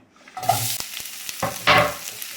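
Sliced onions dropped into hot sesame oil in a pan, sizzling close up with a few sharp crackles and spoon clinks as they settle and fry.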